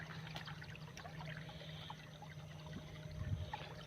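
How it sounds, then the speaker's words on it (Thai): Water draining out of a combine harvester stuck deep in mud, a faint continuous trickling and pouring stream, heard at low level outdoors. "ตอนนี้เราก็เปิดน้ำออกก่อนครับ"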